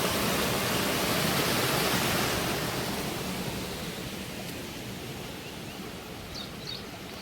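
A rain-swollen stream rushing after heavy rain, a steady dense roar of flowing water close by, gradually easing slightly in loudness, with no voices.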